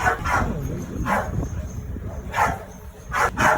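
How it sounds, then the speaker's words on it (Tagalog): A dog barks in several short bursts, spaced irregularly, with people talking and background noise throughout. "Yan, maingay yung aso."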